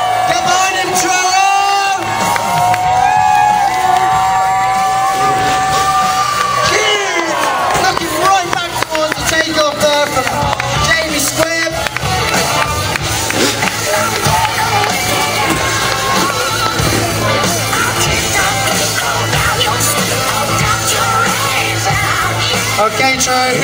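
A large outdoor crowd at an FMX motocross show cheers, whoops and yells for a rider's final jump, loud and continuous throughout, with an announcer's voice and motorbike noise mixed in.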